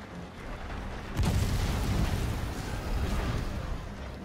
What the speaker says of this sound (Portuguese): Vou botar mais uma bombinha aqui.